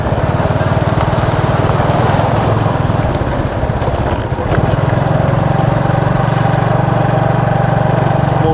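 Motorbike engine droning steadily on a ride through a mountain village, a loud continuous buzzing hum close up with a brief dip midway, no voices.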